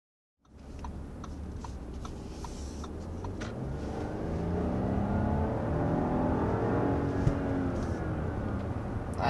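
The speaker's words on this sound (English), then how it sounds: "there's a quick punch of the accelerator in the Audi Q7" A 2023 Audi Q7 55 pulls away under a quick punch of the accelerator, its engine note swelling and climbing steadily in pitch from a muffled in-cabin perspective.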